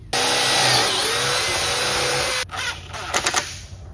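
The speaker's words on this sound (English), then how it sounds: "I'm gonna pre-drill a hole into here and then run it down like that." A drill pre-drilling a hole in wood whines steadily at high pitch for about two seconds, then cuts off, leaving a few faint knocks and rattles.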